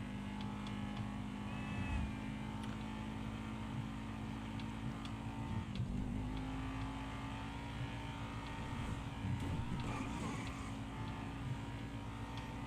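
A car drives steadily through GTA Online, its engine a continuous, fairly loud droning hum with slight swells of revving and no talk over it.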